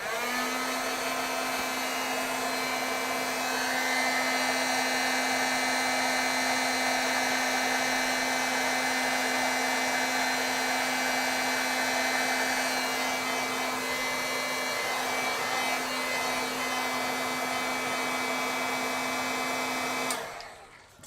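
A heat tool blows steadily on wet ink on paper, a loud, constant whirring hum with a high fan whine that runs unbroken for about twenty seconds before cutting off abruptly.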